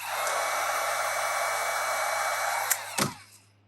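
A heat gun blows a steady roaring stream of hot air while a vinyl wrap skin is fitted to a game console, then it cuts off with a short clunk and winds down to quiet.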